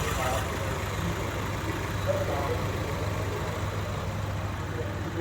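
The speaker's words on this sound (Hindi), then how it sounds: "सो आइए सुनते हैं इंजन की आवाज़।" Idling 2022 Honda City VX with its water-cooled 1498cc inline i-VTEC petrol engine, a steady low hum holding evenly with no revving, heard close with faint background noise.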